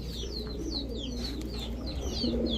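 Pakistani Teddy and Giribaz pigeons coo in low, steady murmurs, with small bird chirps flickering above them throughout.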